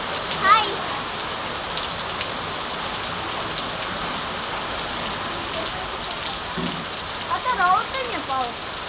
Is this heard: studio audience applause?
no